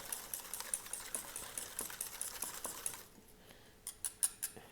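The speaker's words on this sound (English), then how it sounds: "And a quick whisk." Quick whisking of a lamb chop marinade in a bowl, a rapid run of light, even ticks and scrapes for about three seconds, then a few separate louder taps near the end, close and clear with no talk.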